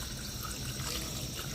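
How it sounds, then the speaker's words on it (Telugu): Water is poured into a pressure cooker holding mutton trotters, turmeric and salt, giving a brief, steady splashing trickle at close range with no voices. "నీళ్ళు వేసుకున్నాము."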